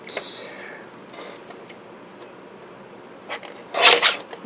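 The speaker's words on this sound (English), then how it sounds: "I'm going to go ahead and use my trimmer here and trim that out" A paper trimmer slices card stock with short, close rasping swipes, one near the start and a louder double stroke near the end, with quiet handling in between.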